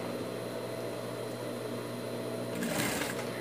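Sewing machine stitching fabric for a pet shirt: a steady, quiet mechanical whir runs throughout, with a slightly louder rattling burst near the end.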